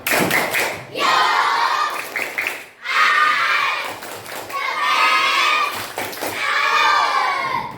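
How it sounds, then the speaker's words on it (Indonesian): A group of people joining in a rhythmic tepuk salut clapping cheer, made of loud bursts of claps and chanting voices separated by short pauses. "Yuk beri tepuk salut buat kita semua"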